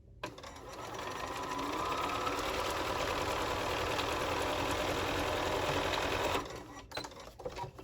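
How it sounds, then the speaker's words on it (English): A sewing machine runs in one steady, continuous burst as quilt block pieces are stitched together, then stops, leaving a few faint clicks and handling noises. "then I'll be able to quickly sew this block together"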